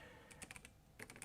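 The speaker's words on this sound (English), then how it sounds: "to get my fingers in the right place on the keyboard." Quick, light typing on a computer keyboard, two short bursts of a few key taps each, close and quiet with no voices.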